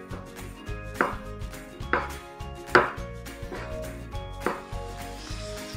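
A knife cuts a cucumber lengthwise on a cutting board, five or six distinct crisp cuts at an uneven pace, close and fairly loud, with no voices.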